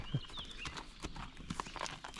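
Horse hooves clip-clop at a walking pace on a hiking trail through lake and canyon country, irregular close steps over outdoor background noise.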